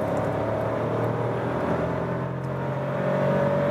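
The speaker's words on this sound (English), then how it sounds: "I can also shift down myself before to induce a little bit more speed" A turbocharged VW Polo R-Line accelerates in third gear, heard from inside the car as a steady, fairly loud engine drone with a tonal hum that holds on through the pull, with no talk.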